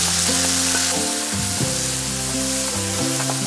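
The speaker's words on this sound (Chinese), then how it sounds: "接着用锅中的底油将蒜末和干辣椒爆香" Minced garlic and dried chili sizzling hard in hot oil in a wok, a loud continuous crackling fry over a steady tonal background, with no voices.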